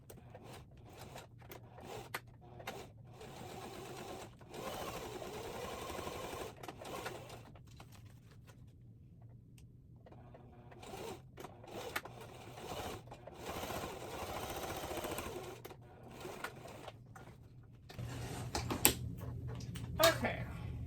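A sewing machine stitches tote bag gusset pieces in several bursts of rapid needle chatter, separated by short pauses and handling noises, with a voice speaking intermittently over parts of it.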